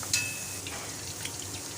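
Freshly fried okra sits draining in a strainer, giving off a soft, steady sizzle of hot oil with faint crackles and one brief sharper tick near the start.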